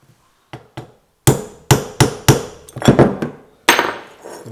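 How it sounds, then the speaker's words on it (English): A very small hammer taps out a roll pin on a Mirka DA sander in a string of sharp, ringing strikes: two light taps, then a quicker series of harder blows, close up. "Got the world's smallest hammer."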